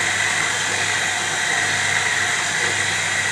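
A homemade meat slicer runs on two motors, giving a loud, steady, unbroken whirring drone with no changes in pitch or level.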